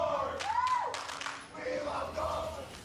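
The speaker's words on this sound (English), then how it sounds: "Crowd's got their chant going on." A packed arena crowd at a North American League of Legends esports match chants in unison, a loud rhythmic roar with rising and falling calls, while a commentator talks over it.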